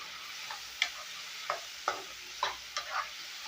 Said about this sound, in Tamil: இப்போ நல்லா வதக்கி விட்டுக்கோங்க